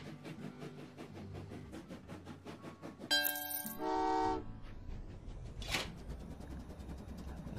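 In the video game Train Valley 2, a train chugs in rapid rhythmic puffs, then a bright horn toot and a whistle sound out over the game's running effects, followed by a sharp high whoosh.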